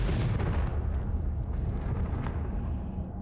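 Confringo blasting spell going off in Hogwarts Legacy, a loud sustained rumbling explosion that starts with a heavy burst and slowly rolls and fades over a few seconds, with no talking.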